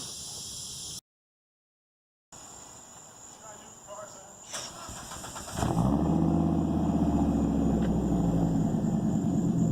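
Volvo 850 with its muffler deleted and a 2.5-inch exhaust roars loudly as the engine is revved up, starting after a quieter idle stretch and holding a steady, close, throaty rumble to the end.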